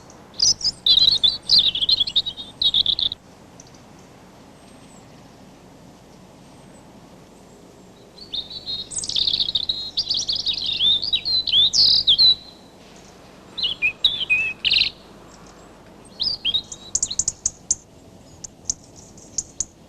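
A European robin sings bursts of high, warbling song that come and go over about twenty seconds, clear and fairly close, with quiet pauses between phrases.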